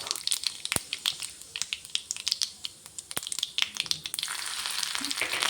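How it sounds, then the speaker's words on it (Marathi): Mustard seeds, cumin and chilli slices frying in hot oil, with sharp crackles and pops bursting irregularly over a soft sizzle, close and clear, the spluttering thickening toward the end. "तेल तापल्यावर त्यात मोहरी जिरं मिरचीचे काप"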